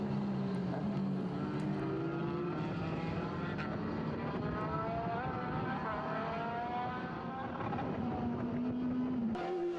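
Formula BOSS single-seater race cars screaming around Mondello Park in Ireland, engine notes climbing and falling as several cars pass close together, continuous and loud with a faint voice underneath.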